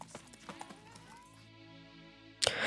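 Roach the horse's hooves clop in The Witcher 3, a few light, uneven strikes over a steady musical game backdrop, ending with a louder burst of noise near the close.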